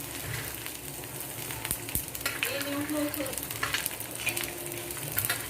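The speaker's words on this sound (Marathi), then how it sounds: "मी आता बोंबील टाकून घेते त्यामध्ये" Dried bombil fish frying in oil on an iron tawa gives a close, moderate sizzle with scattered crackles and a few stirring scrapes, continuing unbroken with no speech.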